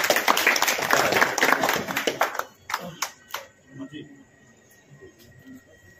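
Crowd clapping at a political rally in Hansi, Haryana, a dense burst of applause that fades out after about two seconds, leaving a few scattered claps and faint murmuring voices.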